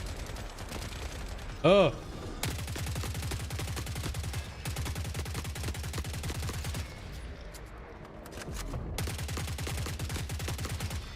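Bursts of gunfire from snipers in the video game Forever Winter rattle on almost without a break, loud and sustained, while someone talks briefly over the shooting.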